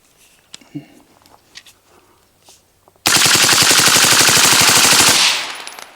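A rapid string of suppressed 5.56 rifle shots through a Stealth Additive Works Tisha silencer, dozens of sharp reports in a fast, steady burst, loud and close, after a quiet stretch with faint handling noises.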